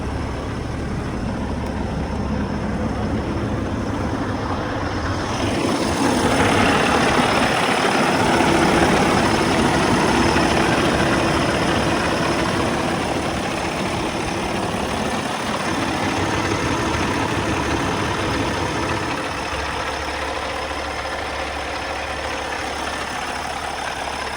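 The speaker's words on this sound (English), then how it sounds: "I'm gonna turn the engine RPM down so that you can have a good listen." A steady engine idles with a low, continuous rumble throughout, growing slightly busier and louder partway through before settling back to a constant drone.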